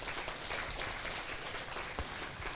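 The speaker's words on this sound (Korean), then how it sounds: "우리 의미 있는 강의를 해주신 유범상 교수님께 다시 한번 큰 박수 부탁드립니다" A hall audience at a Gyeonggi-region senior citizens' event claps steadily and densely after a lecture, a continuous wash of many hands with no voices over it.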